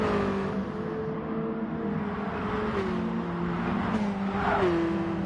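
A 90's classic GT race car drifting through a turn at Lago Maggiore GP in a racing game, engine note wavering and rising as revs shift, continuous and fairly close with no talk.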